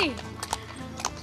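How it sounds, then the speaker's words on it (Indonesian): Horse hooves clip-clopping on a horse ride at Bukit Gundaling, a few hollow knocks in steady rhythm mixed with a short whinny, with a voice talking over them. "Ternyata naik kuda dan delman menjadi salah satu daya tarik pendatang di tempat ini."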